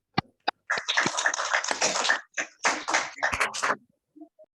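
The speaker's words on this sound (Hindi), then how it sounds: "सृष्टि के लिए तालियां हो जाएं।" A small group claps for a student speaker at an inter-school public speaking competition, a few scattered claps building into a short burst of uneven applause that fades in separate bursts, with brief murmurs at the end.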